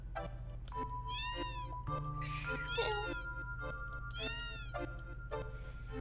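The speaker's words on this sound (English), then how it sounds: "Your cat's meowing back." A domestic cat meows repeatedly at close range, several drawn-out, rising and falling cries in a loose rhythm over a steady low hum.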